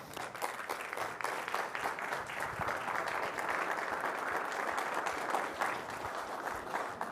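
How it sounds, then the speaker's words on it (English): A seminar audience at a sales masterclass claps for themselves after being asked to stand, producing a steady, fairly distant round of applause for about seven seconds. "give yourself a round of applause"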